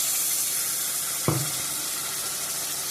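Ground spice paste of ginger, cumin and chilli goes into a hot pan for a rohu fish curry with cauliflower, with one sudden thump and then a steady loud sizzle that carries on alone.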